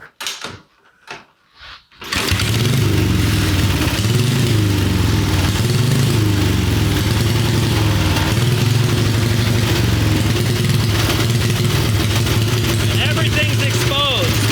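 A Harley-Davidson Peashooter single-cylinder motorcycle with exposed pushrods and valves is kicked over a couple of times with faint thumps, then fires and settles into a loud, steady, close running drone. Someone speaks briefly before it starts.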